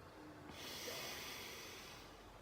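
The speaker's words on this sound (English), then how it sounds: "Take a long breath in." A long, deep inhale through the nose, a soft airy rush that swells and holds steady for about two seconds, close and alone with no talking.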